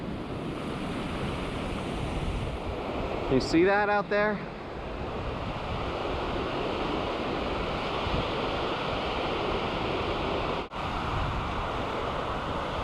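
Steady roar of stormy ocean surf and gusting wind buffeting the microphone on a fishing trip, loud and continuous, with a brief spoken remark partway through.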